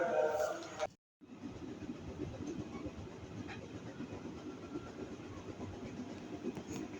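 A commuter train running between Tanah Abang and Rangkasbitung, a steady rumble with faint clickety-clack continuing throughout after a brief cut near the start, with speech-like noise mixed in.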